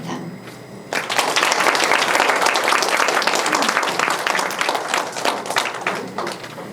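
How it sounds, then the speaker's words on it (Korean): An audience at a research presentation on disability activity support services bursts into loud, sustained applause. Dense clapping starts abruptly and fills the hall for several seconds, with a voice faintly underneath. "박수 한번 더 부탁드리겠습니다"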